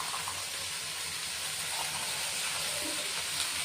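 Green peas and tomatoes sauté in a pan with a soft, continuous sizzle and hiss, fairly quiet and close, with no talking.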